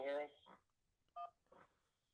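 A short run of telephone keypad dialing tones for a radio show phone-in call, a few quick distinct beeps in a row, heard near and clear between brief bits of background voice.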